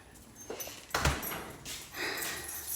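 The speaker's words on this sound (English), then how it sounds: "There's my dogs." Dogs inside a car give a few close whimpers and snorts, soft and brief with quiet gaps between.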